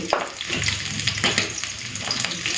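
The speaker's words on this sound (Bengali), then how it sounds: "বেগুনে একটুখানি নুন আর হলুদটা দিয়ে ভালো করে মেখে তারপরে ভেজে নিই" Eggplant rubbed with salt and turmeric frying in hot oil, a loud, continuous sizzle with the scrape and clatter of stirring mixed in.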